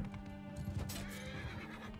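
In Mount and Blade 2 Bannerlord gameplay, a horse neighs amid a dense, busy mix of hoofbeats and battle noise, all playing at a low level.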